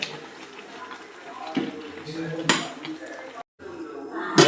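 Food being mixed in a cooking pot in a village-style home kitchen, with scraping spoon strokes and metallic clinks against the pot, a brief pause near the end, and someone talking over it.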